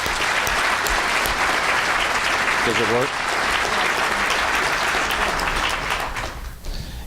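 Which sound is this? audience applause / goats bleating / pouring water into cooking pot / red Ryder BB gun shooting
audience applause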